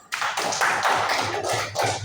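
A classroom of students claps for a small group, a quick burst of many hands beating fast and close for about two seconds.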